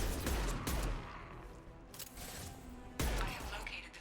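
Heavy impact-shot gunfire in Mass Effect 2, with loud bursts near the start and a sharp blast around the three-second mark over a dense rumbling battle backdrop.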